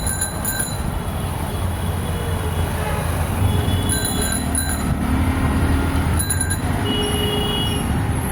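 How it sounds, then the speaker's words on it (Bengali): Ambience at Chittagong railway station: a low, continuous rail rumble with metallic wheel squeals and shrill screeches breaking through at intervals, fairly loud and close, without clear speech. "Chittagong rail station"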